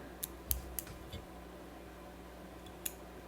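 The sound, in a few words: scissors trimming stray materials on a fly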